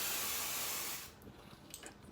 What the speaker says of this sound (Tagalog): So, it's in a spray form.